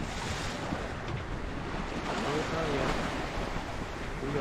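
Steady broadband wash of ocean swell rolling continuously, heard from a sailboat, with wind rushing across the microphone and no clear breaks between waves.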